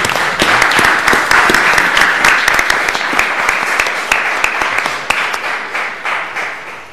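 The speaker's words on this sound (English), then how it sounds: "let's give Judge Pregerson a little round of applause" A courtroom audience at the close of an en banc week applauds Ninth Circuit Judge Harry Pregerson for his 50 years on the bench, a loud, sustained burst of clapping that fills the whole stretch and slowly thins toward the end.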